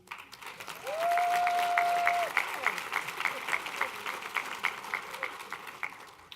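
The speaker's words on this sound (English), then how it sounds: "I'd also like to give a round of applause to the voice of Comto, Mr. Frank Oglesby" Audience applause at a COMTO Women Who Move the Nation gala for Frank Oglesby, moderate clapping with a voice sliding in over it near the start, then scattered rhythmic claps tapering.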